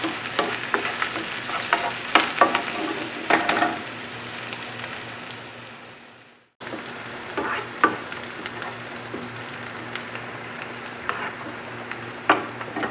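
Onions sautéing in a pan until browned, with a continuous close sizzle and scattered scraping stir strokes; a brief break in the middle, then the frying resumes.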